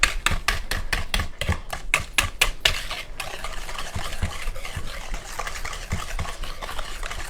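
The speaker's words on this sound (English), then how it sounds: "I'm going to beat it with this whisk these eggs in here" Eggs beaten with a whisk in a bowl while making pumpkin spice bars, a quick run of sharp rhythmic clinks against the bowl that then gives way to softer, steady stirring and scraping, close and clear.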